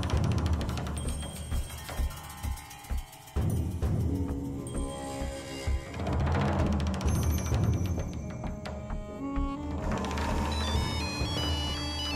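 A telephone rings inside a home in a Marathi thriller TV drama, its repeated electronic tones clear and fairly loud with musical score layered underneath.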